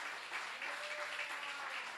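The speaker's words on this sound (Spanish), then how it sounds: "le pongo un fuerte aplauso al Padre amado" A church congregation applauds during a service, a steady, moderately distant roar of many hands clapping with little talk over it.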